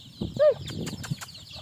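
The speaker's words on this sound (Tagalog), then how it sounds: "Yun yung mga manok niya." A farm chicken gives a short cluck and squawk at close range, with a brief flutter of wings against quiet background noise.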